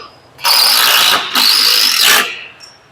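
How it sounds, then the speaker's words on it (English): Power driver with a Torx T30 bit sinking floor deck screws into a tiny house trailer floor, two loud whirring bursts close up with a short pause between them, winding down at the end. "we're going to shoot one of these floor deck screws down in there"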